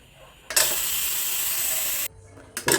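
Trapped steam vented from a pressure cooker of boiled chickpeas: a loud, continuous hiss that bursts on abruptly and cuts off after about a second and a half, followed by a brief second puff of release.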